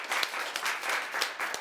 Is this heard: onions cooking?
no